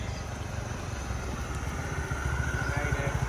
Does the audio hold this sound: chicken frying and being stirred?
no